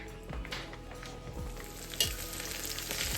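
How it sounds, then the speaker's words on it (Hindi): Garlic, onion and ginger sizzle in hot oil for an Indian tadka, a steady close frying crackle with a few sharp spits and stirring scrapes, no voices. "मैंने तड़के में लगाया है इसमें लहसुन प्याज और अदरक ये डाल दिया है"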